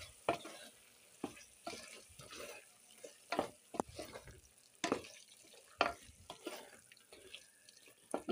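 Hyderabadi haleem is stirred after coriander, mint and green chillies go in: irregular scraping and sloshing strokes of a spoon in a pot, close up and moderately quiet, with no talking.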